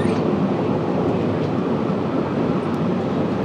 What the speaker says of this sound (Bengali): ট্রেন আরো উপরে উঠতেছে